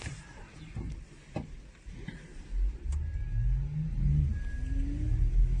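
An electric car pulls away on a test drive, a low rumbling drive noise building and rising in pitch as it speeds up, with a few knocks early on and no talk.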